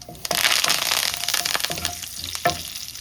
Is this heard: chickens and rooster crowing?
no